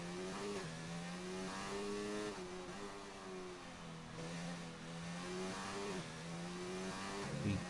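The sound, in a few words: McLaren race car engine in the video game F1 2019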